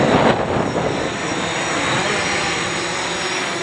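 Quadcopter drones fitted with Mini X and Naza flight controllers hover outdoors in strong wind, giving a steady, loud broadband whir of propellers mixed with gusty wind noise, with no talking.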